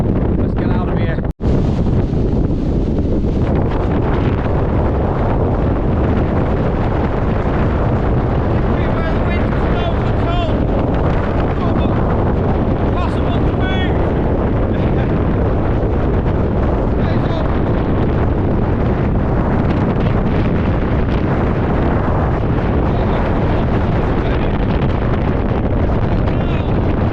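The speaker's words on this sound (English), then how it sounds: "wind, and them gusts are unbelievable" Storm Agnes wind roaring at Scales Tarn in the Lake District, a loud, relentless buffeting rush across the microphone with surging gusts throughout, and a voice speaking faintly beneath it.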